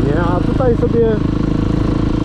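Motorcycle engine held on the throttle during wheelie practice, a steady loud drone with rising and falling revs beneath a voice talking over it.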